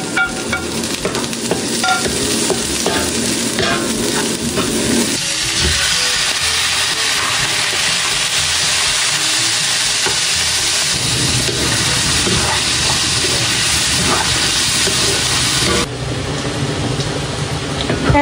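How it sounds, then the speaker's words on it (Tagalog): Aromatics being sautéed for pansit habhab in oil left over from frying kikiam, a loud continuous sizzle with stirring clatter that shifts in intensity partway through, with no talking. "Dito po sa pinagprituhan ko po ng kikiamay, dito na lang din po ako magigisa po ng rekado."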